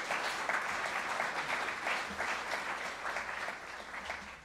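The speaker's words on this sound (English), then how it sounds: "if you guys wouldn't mind just giving them all another round of applause" Audience applause for guests on an entertainment-industry leadership panel: sustained, dense clapping from a crowd, steady and fairly loud throughout with no speech.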